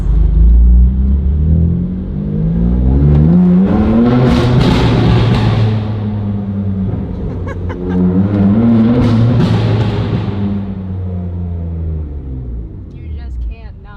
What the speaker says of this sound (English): This is the last final moments of the exhaust and the raspiness.